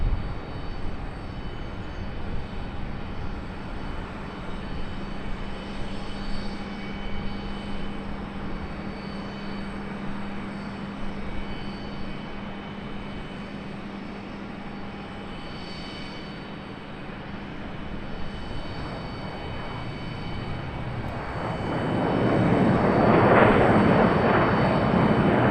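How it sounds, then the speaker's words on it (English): An Embraer E-175 jet passing over Charlotte Douglas International Airport makes a long steady engine drone with a faint whine, then swells into a louder rushing roar near the end as it comes overhead, in gusty wind. "E-175 finally making its way over"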